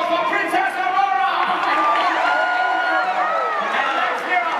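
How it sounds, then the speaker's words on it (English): A crowd at a Sleeping Beauty panel cheers and applauds for Princess Aurora, with whoops and overlapping excited voices riding over sustained clapping throughout. "Lords and ladies, a wild round of applause for Princess Aurora!"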